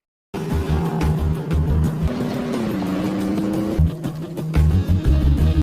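Cars speed through a chase scene from The Italian Job, engines revving and shifting in pulsing bursts, close and loud, with no talk.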